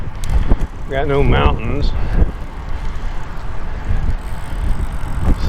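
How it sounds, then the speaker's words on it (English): Wind blowing unabated across open, flat land with no mountains and only a few planted trees, a steady broadband rush buffeting the microphone throughout, with someone speaking briefly near the start. "so the wind just blows unabated"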